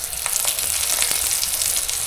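Paratha frying in oil in a pan over low gas, a close, continuous hissing sizzle with fine crackles and no talking.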